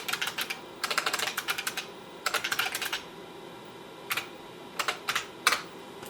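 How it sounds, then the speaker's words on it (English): A computer keyboard typed on in quick bursts of clicking keystrokes with short pauses between words, close and alone, as a long sentence is entered. "Let me type in a long sentence in the interactive mode."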